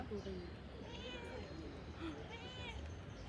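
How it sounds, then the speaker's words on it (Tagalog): A cat meows twice, in two short, faint calls about a second and a half apart, over a quiet indoor background with murmured voices. "Yung pusa daw, gusto niya din."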